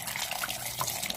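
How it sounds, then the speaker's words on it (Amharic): Water splashes steadily into a pot of Ethiopian red wat stew as it cooks, a continuous close, bright rushing pour with no voices. "አሁን የመጨረሻ ነው ውሃ የሚጨምረው።"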